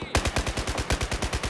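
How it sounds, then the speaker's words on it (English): Suppressive fire on a building in a video game, a close, loud burst of rapid automatic gunfire with evenly spaced shots and no pauses. "I'll try to provide suppressive fire on that building!"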